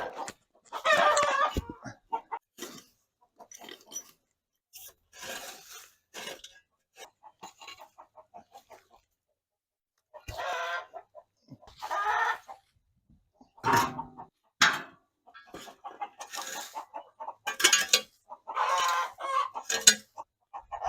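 Chickens and a rooster at a backyard waterer raised on an oil drum stand, clucking in scattered bursts with crowing calls, fairly close and loud, with quiet gaps between.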